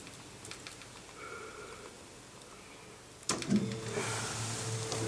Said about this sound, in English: And that will make the machine move.